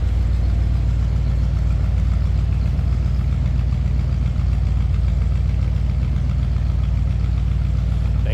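A 1963 Ford Thunderbird two-door hardtop idles steadily, giving a deep, even, continuous rumble heard close from behind the car with no voices.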